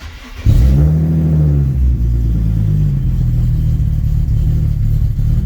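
A Nissan 370Z on a dyno cranks and fires up, then settles into a loud, steady idle rumble that continues through the rest of the clip.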